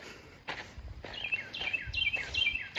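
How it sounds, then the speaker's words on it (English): A loud bird calls outdoors near a walking trail, a run of sharp, repeated chirps and trills rising in intensity, close and clear over faint rustling. "That would be a very loud bird."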